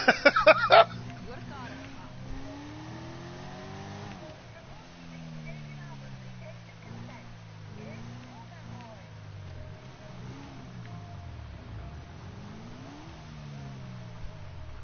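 Car engine in the video game GTA 5, revving and shifting through rising and falling gear tones under a steady drone, beginning with a few sharp loud hits and continuing at moderate level.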